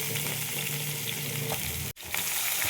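Vegetables such as sweet potato fry for shukto in a pan of hot oil, a close, dense, continuous sizzle and crackle with a brief dip near the end.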